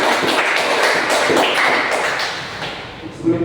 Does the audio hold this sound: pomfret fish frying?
no